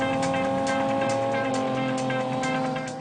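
A Lamborghini Countach V12 engine drones loudly and continuously with a high, strained tone and a faint rhythmic pulsing, as if driving at speed.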